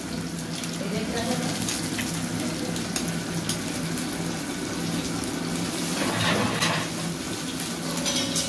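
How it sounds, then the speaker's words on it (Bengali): Rohu fish pieces fry in a pan, making a dense, steady sizzle that runs unbroken throughout, close and fairly loud, with a few faint clinks of utensils. "মাছগুলো ভাজা চলতেছে"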